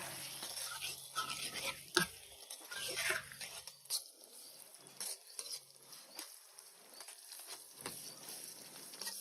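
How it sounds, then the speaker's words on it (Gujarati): A spoon stirs spices and salt into vegetables for Surti undhiyu, giving soft scraping and clinking against the pan with irregular patter and occasional sharper knocks, close and moderately quiet. "આ બધી વસ્તુ એકદમ સારી રીતે મિક્સ કરી લઈશું"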